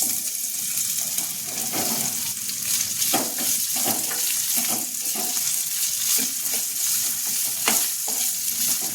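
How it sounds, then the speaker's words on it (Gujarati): Cumin and diced potatoes sizzle and fry in oil in a pan for sabudana khichdi, a steady close crackle with occasional stirring scrapes and clinks. "જીરું બરાબર સંતળાઈ જાય એટલે એમાં આપણે બટેટા એડ કરીશું"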